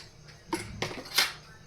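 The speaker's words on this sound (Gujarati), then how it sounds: "અને પછી આપણે તેને હલાવીને મિક્સ કરી દઈશું" A spoon scrapes and clanks against a cooking pan while a Gujarati vegetable curry is stirred and mixed, giving three distinct metallic knocks spaced a few tenths of a second apart over a quiet background.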